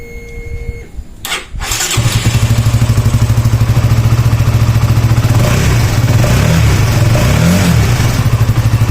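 A fourteen-year-old Honda CBR150 motorcycle engine starts with a sharp crank, then settles into a steady, loud, smooth idle with a few brief revs rising over it, close to the machine and with no talking.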